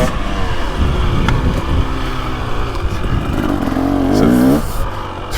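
A 2023 KTM 300XC two-stroke dirt bike is ridden, its engine loud and close, rising in pitch as it revs hard before dropping off, with a rider's voice over parts of it.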